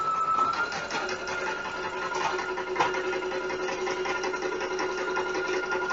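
Brother PE800 embroidery machine stitching, a continuous fast mechanical whir with a steady pitched tone, even and close, no talking.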